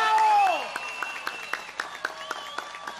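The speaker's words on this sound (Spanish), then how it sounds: "Ahí vemos los aplausos bien fuertes para el caballero." Applause at a family olympics event, scattered hand claps from a small group following a voice, fairly sparse and rhythmic rather than a dense roar.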